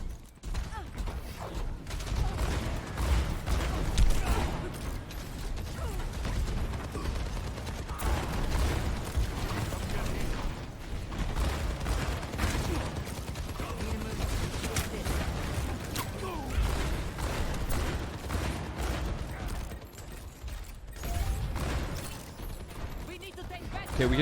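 Bursts of gunfire rattle from one side in a team shooter video game, irregular sharp volleys scattered through a busy mix, with a player talking over much of it.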